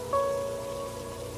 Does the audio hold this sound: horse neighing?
no